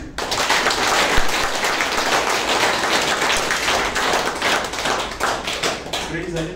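Fingers tapped against a palm to imitate rain, one finger then more, making a steady dense patter of soft close taps that runs continuously without pause.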